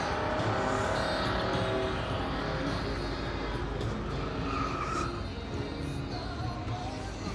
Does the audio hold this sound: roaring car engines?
yes